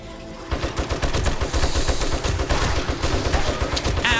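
Automatic gunfire in the video game 7 Days to Die, a rapid continuous stream of loud shots that keeps going for several seconds without talking.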